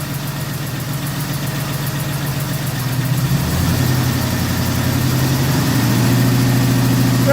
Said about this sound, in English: Let me go ahead and up the RPM for you a little bit, Battle.